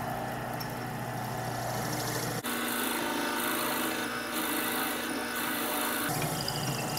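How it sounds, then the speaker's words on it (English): A 5/16 inch drill bit boring a shallow mortise into a wooden tobacco pipe blank on a woodturning lathe set to reduced speed, giving a steady, loud mechanical whir with gritty cutting noise that shifts in pitch partway through, no talking. "we're now going to drill a 5/16 inch shallow mortise"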